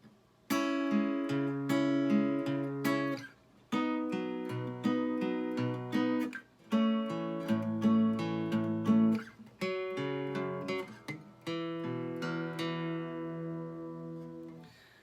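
An acoustic guitar plays a slow sequence of picked chords, each note ringing out, with brief pauses between phrases and no talking.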